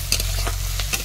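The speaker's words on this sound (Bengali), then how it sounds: "চিংড়িটা আমার প্রায় ভাজা ভাজা হয়ে এসছে" Prawns fry in a pan with a steady, close hiss of oil, broken by a few sharp crackling spits and pops.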